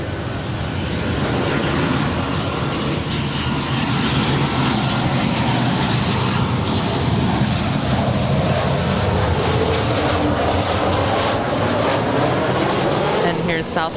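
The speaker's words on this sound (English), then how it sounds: "Southwest Airlines 3155 coming in from San Francisco. It is a 737-700." A Southwest Airlines Boeing 737-700 arriving from San Francisco lands at LAX, its engines a steady, loud broadband roar sustained throughout, with faint voices underneath.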